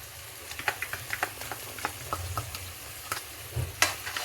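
Tomatoes and ginger garlic paste frying together for chicken biryani: a close, crackly sizzle broken by frequent light stirring taps and scrapes, with no voices.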